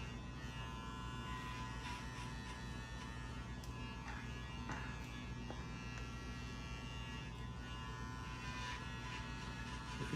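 Electric hair clippers doing a men's modern mullet haircut buzz steadily and continuously at close range, a constant motor drone with slight shifts as the blades move through the hair, and no talking.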